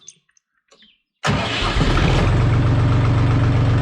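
A LOVOL TE 244 tractor engine cranks and catches after a short quiet pause, then settles straight into a loud, steady, rumbling idle that runs on close by.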